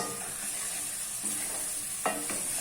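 Tomatoes and spices fry in a pan for a desi-style arbi curry, making a soft steady sizzle broken by a few sharp scrapes of a stirring spoon, close by and without talk.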